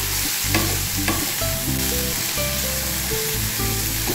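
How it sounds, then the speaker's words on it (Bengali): Peas frying in a pan with a steady sizzle and stirring scrapes, close and continuous, with a low drone running underneath. "মটরশুঁটি দিয়ে একটু ভেজে নেবো।"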